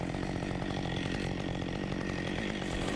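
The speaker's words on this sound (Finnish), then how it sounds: "Tehdään siihen kaatolovio tuonne kallistuksen suuntaan ja sahataan sitä jo vähän poikki." A chainsaw cuts a felling notch in a small leaning tree tangled with two others during a hazardous removal, its engine droning loud and steady close by without any talk.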